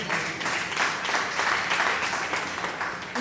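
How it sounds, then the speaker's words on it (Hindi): Audience applause at a Hindi poetry event, a steady wash of many hands clapping for about three seconds at moderate level, with no talk over it. "जोरदार तालियां इनके लिए।"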